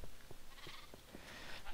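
Sheep in the Minecraft video game bleat in short, repeated calls across a steady game backdrop, several brief cries close together and moderately loud.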